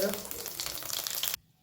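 Cumin seeds dropped into hot oil, giving a bright, loud, close sizzle that holds steadily for over a second before cutting off abruptly.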